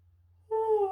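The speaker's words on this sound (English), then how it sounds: "it was actually a real yawn" A person yawning, a single voiced drawn-out yawn that rises suddenly out of quiet, close and fairly loud, without words.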